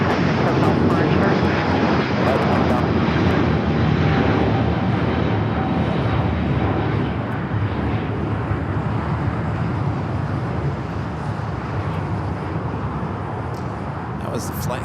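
An Airbus A350-900 jet airliner departs LAX for Rome with a loud, broad engine roar that slowly fades as it climbs away. Faint radio chatter sits beneath it.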